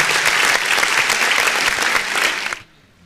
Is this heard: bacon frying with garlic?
no